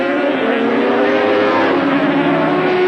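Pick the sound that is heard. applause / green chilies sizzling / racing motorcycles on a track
racing motorcycles on a track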